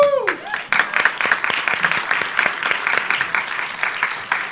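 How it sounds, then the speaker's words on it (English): An audience at a design-criticism talk applauds. A voice is heard briefly at the start, then a steady patter of clapping from a modest crowd continues at moderate volume. "I want you to applaud them for that"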